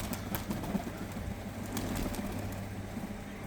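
Andijan pigeons coo softly in a loft in a few low, rolling calls, with faint background rustle and clatter.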